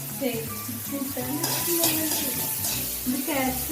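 Mustard seeds hit hot oil and sizzle up close, with a brighter burst of crackling partway through, over clinks of a pan and a steady tonal hum in the background.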